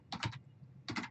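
Two short bursts of quick keystrokes on a computer keyboard while a command is entered in a networking lab, close and fairly quiet with a brief pause between bursts.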